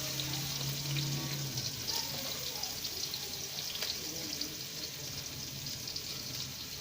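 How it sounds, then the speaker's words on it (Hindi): Chopped onions fry and brown in ghee for restaurant-style Lahori chickpeas, a steady dense sizzle that stays even throughout. "अब जो हमारा प्याज है, ओनियन है, इसको हम जो है अच्छे तरीके से जितना हमें ब्राउन चाहिए उतना कर लेंगे"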